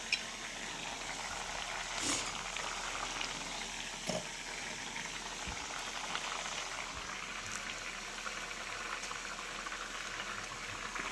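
Dal (lentils) bubbling at a steady boil in a cooking pot, a continuous soft churning and popping with a few sharper clinks and bumps, close and alone with no talking.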